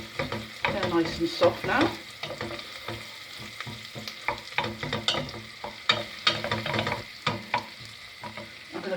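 Softened vegetables frying in a pan being stirred repeatedly, with irregular scraping strokes over a steady sizzle; a voice speaks briefly.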